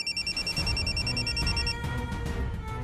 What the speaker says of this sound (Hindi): फोन बज रहा है काली, उठाओ ना, इमरजेंसी कॉल होगा